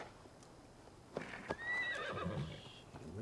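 A horse in a video game whinnies once, a shrill rising-and-falling neigh, preceded by a couple of hoof clops and followed by snorting, moderately close.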